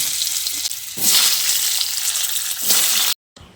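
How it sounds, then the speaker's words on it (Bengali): Cut pumpkin pieces frying in a pan with tempered spices, a loud continuous sizzle with stirring scrapes, briefly cut to silence near the end, no one talking. "কুমড়োগুলো দিয়ে একটু লালচে করে ভেজে নেব।"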